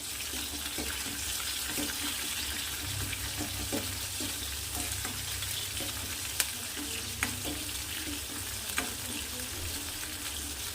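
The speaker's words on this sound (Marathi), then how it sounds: "छान परतून घ्यायचा आहे लसणाला मिरचीला कढीपत्ता ॲड करू" Four cloves of chopped garlic fry in a pan for dal, giving a steady, fairly quiet sizzle with occasional stirring clicks and scrapes throughout.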